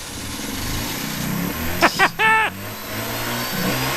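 A 2006 Mazda RX-8 rotary engine cranks in a few short bursts, then catches and starts up, settling into a steady running drone.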